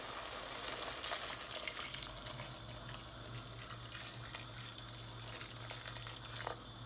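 Hot water from a kettle pours steadily into a pot of beef for an Elbasan tava stew, a continuous splashing, running-water sound that stays close and fairly even for several seconds with no talk over it.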